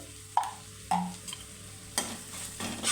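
Coriander powder and a pinch of garam masala fry with cabbage in a catering-style cabbage curry, heard as a low sizzle with a few distinct scraping stirs of a spoon against the pan.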